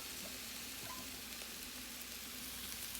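Chicken fajitas with peppers and onions sizzle in a hot pan, giving a steady, even hiss that fills the whole moment with no pauses and no voices.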